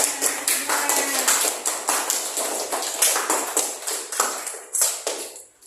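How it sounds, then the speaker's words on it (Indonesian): Rapid, steady group hand clapping by children in a classroom, many sharp claps in an even rhythm that fades off near the end. "Sekarang tepuk tangan dulu."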